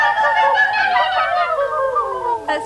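Someone imitates a kookaburra, the Australian bush bird, with loud, close, cackling hoots that begin in a tight warbling chatter and then slide gradually downward, ending in a short final burst.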